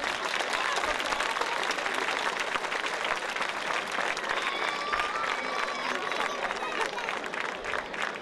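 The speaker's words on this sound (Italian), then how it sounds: "credo che sia doveroso fare un grande, immenso applauso a padre Sortino che ci ha lasciato il 26 mag" A large crowd applauds steadily and loudly throughout, dense clapping with a few cheers mixed in.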